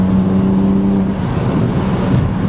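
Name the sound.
BMW 135i with standback and turboback exhaust revving at 12 psi boost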